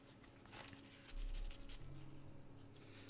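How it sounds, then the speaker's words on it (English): Dry pastel stick rubbed back and forth on a paper towel, a soft scratchy rubbing close up with a slightly louder burst near the middle, quiet throughout. "I'm just rubbing it on the paper towel"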